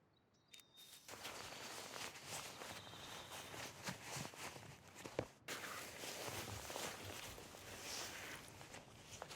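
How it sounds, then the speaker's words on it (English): Footsteps crunch repeatedly across the ground in the video game SCUM, fairly close and moving at a steady walking pace with a brief pause midway, under faint ambient noise. "I thought I heard footsteps."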